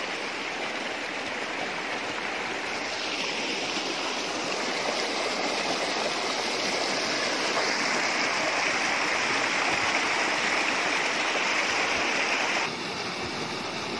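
Steady rushing of flowing water, like a stream pouring over stones, continuous and fairly loud throughout with no voices.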